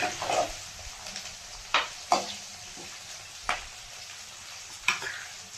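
Curry leaves and homemade garlic paste frying in a pan, a low crackling sizzle punctuated by several sharp stirring clicks and scrapes, close by with no voices.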